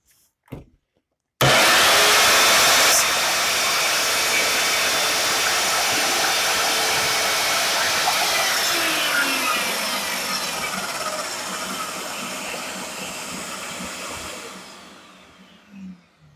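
A power saw slices through plywood, a sliding saw drawn through the board. Its loud, steady motor roar starts abruptly and holds for about fifteen seconds before winding down, with no talking.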